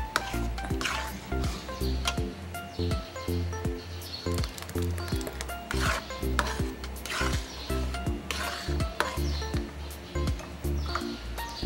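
A thick ube halaya mixture with condensed milk and coconut milk is stirred in a pot, giving repeated scraping and sloshing strokes at a steady rhythm, close by under a continuous background hum.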